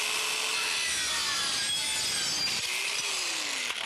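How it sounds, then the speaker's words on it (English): A handheld dual saw with twin counter-rotating blades cuts through a metal door threshold, giving a steady, loud, gritty rasping whine that runs unbroken and close up, with no voices. "Watch me do this with the dual saw."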